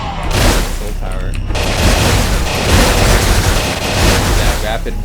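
A soul power alternate fire attack in the PC game Amid Evil (2019) lets out a loud sustained roaring blast of layered booms and crackling bursts, packed densely for several seconds.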